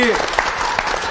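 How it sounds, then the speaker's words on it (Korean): Studio audience applause during a Korean talk show on family conflict, a short burst of clapping heard briefly under a speaking voice. "박수 한번 주세요"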